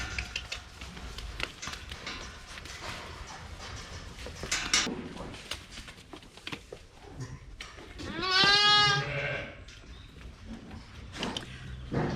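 Young lambs in a farmhouse kitchen near an Aga during lambing season give one loud, close, wavering bleat about two-thirds through, amid soft shuffling and clattering movement.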